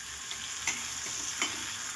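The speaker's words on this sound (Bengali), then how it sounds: "একটু নেড়ে চেড়ে দিচ্ছি সব সবজিগুলোই আমার মোটামুটি ভাজা হয়ে গেছে" Mixed vegetables with capsicum fry in oil in a kadai, giving a steady sizzle, while a spatula stirs them with a few soft scrapes and clinks, close and without talk.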